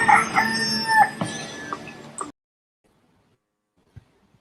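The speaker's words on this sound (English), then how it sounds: "That was a rooster" A rooster crows loudly and close for about two seconds, a ragged drawn-out call, followed by near silence with one small knock.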